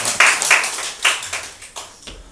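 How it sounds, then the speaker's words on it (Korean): A church congregation at a Sunday service claps for a child who answered correctly, a short burst of a few sharp, separate claps close by that fades out within two seconds. "우리 경준이 정답 맞췄는 박수 한번 쳐요"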